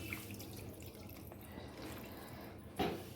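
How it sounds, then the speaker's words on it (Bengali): Water is poured into a pot of chicken curry with potatoes and meat, giving a faint, steady trickling with a brief louder splash near the end, heard alone without talk. "এবার আমি জল দিয়ে দেবো।"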